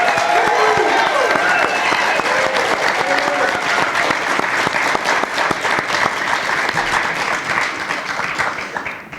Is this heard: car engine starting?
no